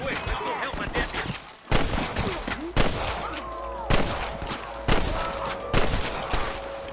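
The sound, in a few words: gunfire in a video game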